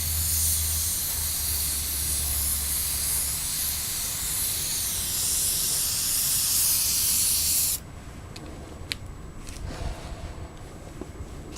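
A spray gun lays clear coat onto motorcycle wheels in one long, close, steady hiss that cuts off abruptly, followed by a few small clicks and handling noises.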